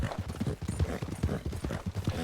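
Horse hooves clip-clop steadily in Red Dead Redemption 2, a fast, even run of close, dense hoofbeats with no talk over them.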